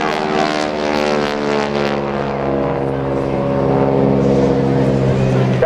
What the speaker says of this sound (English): That slowly rolls the airplane over on its back.